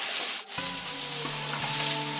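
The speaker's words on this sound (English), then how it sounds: "I'm stirring and I'm frying." Chicken stir-fry sizzles steadily in a hot pan as it is stirred, a close, continuous frying hiss with faint scraping.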